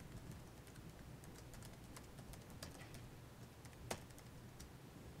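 Typing on a computer keyboard while entering an email address into a web portal: a steady run of light, rapid clicks at close range, with one sharper tap standing out near the end and no voices.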